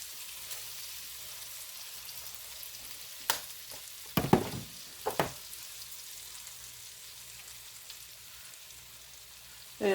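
Hamburgers cooking on a George Foreman grill, a faint steady sizzle with soft crackles and a few brief louder pops and taps around the middle, quiet and close.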